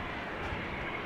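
A KLM Airbus A321neo at Amsterdam Schiphol Airport gives off a steady, broad engine roar, continuous and moderately loud, with no other sounds over it.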